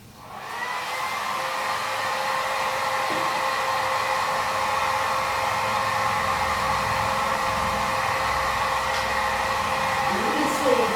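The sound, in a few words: hair dryer drying a painting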